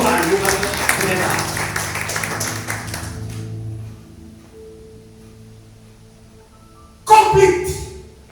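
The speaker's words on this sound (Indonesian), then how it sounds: "Tepuk tangannya untuk Tuhan, bukan pendeta." Church congregation at a worship service clapping: a dense burst of applause at the start that fades out over a few seconds, then a short renewed flurry of claps near the end, with preaching voices around it.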